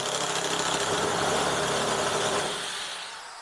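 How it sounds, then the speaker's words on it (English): Lidl Parkside nibbler chewing through sheet steel from a car body panel, a continuous loud buzzing, rattling grind held close up for about two and a half seconds before it begins to fade. "So as you nibble through, as you can see there, you actually cut quite a wide gap."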